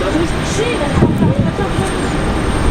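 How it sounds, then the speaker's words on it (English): Waiting family members chatter at Raleigh-Durham International airport, their overlapping voices murmuring beneath a constant rumble of aircraft and wind. "that's what you guys are hearing with all of their chatter over here"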